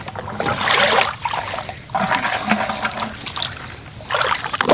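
Water splashes and trickles as it is poured out outdoors near a flood-drained fishing spot, a close, uneven gush that pauses and resumes.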